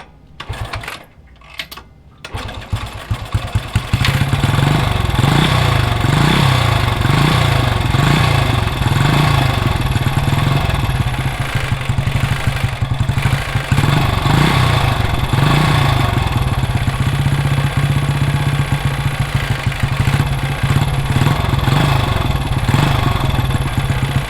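A Moto Guzzi Stornello motorcycle with a hemi head and electronic ignition sputters through a few start attempts, then catches and settles into a steady, close, rhythmic idle that holds for about twenty seconds.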